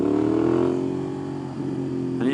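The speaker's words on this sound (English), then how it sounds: "One of my dreams is to do a wheelie." A motorcycle engine revs during a wheelie attempt, a loud close growl that holds steady, dips slightly and then rises again at the end, with no one speaking.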